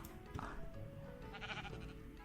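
Sheep bleating in the Minecraft video game, a few short wavering bleats over a busy background of game sounds and music, moderately loud with no talking.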